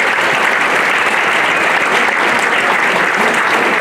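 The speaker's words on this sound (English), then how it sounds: "Just another round of applause for Patty Ann." Continuous applause from a crowd at an installation reception, loud, close and steady throughout, with no break in the clapping.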